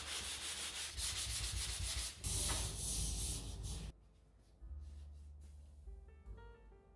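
Steady abrasive scraping of drywall sanding in a basement, loud and continuous in close strokes, then quieter rubbing with a faint tonal hum in the background.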